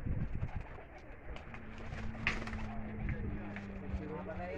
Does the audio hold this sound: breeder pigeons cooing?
yes